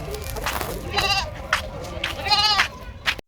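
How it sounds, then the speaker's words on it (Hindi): A baby goat bleats several times in quick wavering cries, close and fairly loud, outdoors at a tourist site in Sheikhupura, with faint background noise and some voices. "सबसे पहले आते साथ ही हमारा इस्तकबाल किया इस बकरी के प्यारे से बच्चे ने।"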